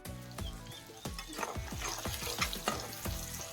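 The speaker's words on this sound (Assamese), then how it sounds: "এইখিনি তেলতে এতিয়া পিঁয়াজখিনি দি দিয়া হ'ল" Onions fry in hot oil for a village-style moong dal tadka, a close, bright sizzle punctuated by rapid repeated stirring scrapes.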